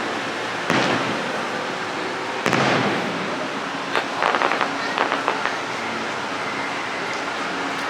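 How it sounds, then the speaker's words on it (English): Fireworks exploding over Anaheim, seen from a hotel balcony: a few sharp distant booms followed by a quick cluster of crackling pops, with steady wind and outdoor ambience. "We do have a great room for fireworks."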